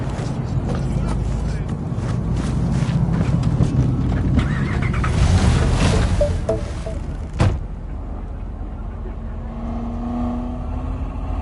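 Car driving in Cyberpunk 2077, a loud rumbling engine and road noise that cuts out abruptly with a thump, followed by quieter ambience.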